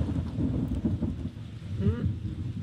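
Low rumbling thunder rolling steadily beneath rain, with a brief murmur of voice partway through.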